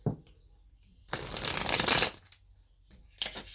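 A quick riffle of tarot cards shuffling close up, a dense crisp flutter lasting about a second, with a softer brief riffle at the end.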